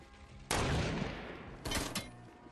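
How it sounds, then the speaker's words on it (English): Gunfire in a shooter video game with a storm mechanic: a loud burst of rapid shots hits suddenly, rings out, then a second sharp volley follows moments later, with no talking over it. "Where are we getting shot from?"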